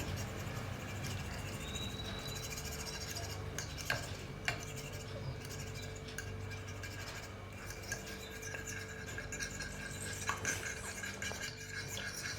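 A utensil stirs and beats eggs in a bowl, producing steady scraping and swishing with occasional light taps against the side, close and continuous under a low background hum.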